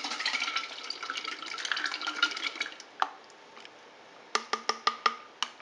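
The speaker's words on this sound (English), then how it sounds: "so we're going to add just a sip of water." A small splash of water poured into about a cup of sweet chili sauce, heard as a soft, faint trickle followed by a few sharp clinks and drips.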